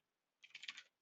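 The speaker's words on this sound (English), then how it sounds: "I have been typing this whole time" A brief burst of rapid keystrokes on a computer keyboard, close and clear, lasting about half a second with quiet before it and no voices.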